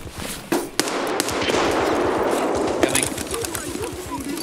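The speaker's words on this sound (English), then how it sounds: "Gonna chuck a grenade down the hallway just to do it." A grenade goes off in a hallway during a gunfight in the shooter game Escape From Tarkov, giving a sharp loud blast with a rumbling, crackling tail and scattered clicks and impacts.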